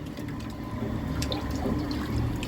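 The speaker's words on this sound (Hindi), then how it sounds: "ये रखने के लिए हम पानी डाल रहे हैं इसमें" Water is poured into a cooking pot while making chicken pilao, a steady splashing and gurgling stream in a home kitchen, close and continuous without speech.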